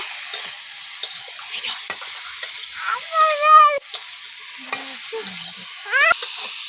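Turmeric-colored curry fries in a pan while being stirred, with repeated scraping strokes over a steady sizzle and a few brief, high squealing tones in the background.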